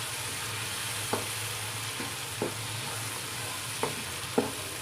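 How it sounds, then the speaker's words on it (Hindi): Chicken liver (kaleji) fries with spices in a pan under a constant hiss, with occasional sharp scrapes and taps from stirring every second or so. "चलें जी, 2 से 3 मिनट अच्छे से भूनने के बाद इसके अंदर मैंने ऐड किए कलेजी।"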